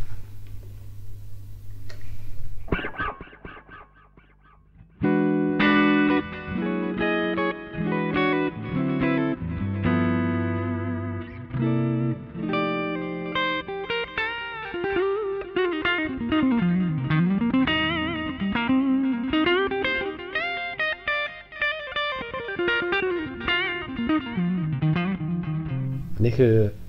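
Clean electric guitar tone through a Palmer PDI-09 speaker simulator in mellow mode, with a Boss GT-8 in the chain, giving a warm, soft sound. Chords and single-note lines are played close and evenly with no talking.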